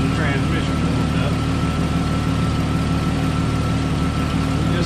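A 1998 Jeep Cherokee XJ with the 4.0 engine idles warm with the transmission warmed up, a steady low rumble with constant hum running unbroken throughout, fairly loud and close.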